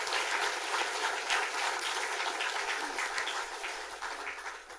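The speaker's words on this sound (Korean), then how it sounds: "수고하셨다고 박수를 한번 보내겠습니다" A congregation applauds during a church dedication ceremony at Gijang Church in Busan, a dense, even wash of many hands clapping that holds steady and tapers slightly toward the end.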